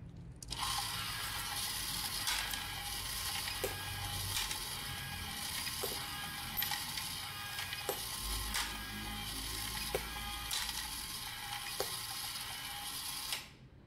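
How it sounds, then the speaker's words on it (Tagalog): A coin counting machine whirs continuously as coins are thrown into its hopper, a steady mechanical rattle and hum punctuated by faint periodic clicks spaced about two seconds apart. "parang binabato ko yung coin papasok sa hopper"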